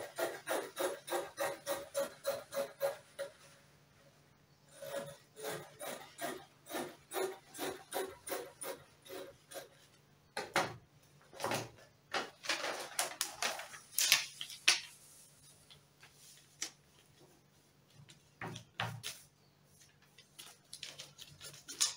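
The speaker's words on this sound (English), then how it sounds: "So I'll cut it out right now." Scissors cutting out a fabric sleeve for an exaggerated off-shoulder top, a close, faint series of rhythmic crisp snips and rasping blade strokes with short pauses between runs.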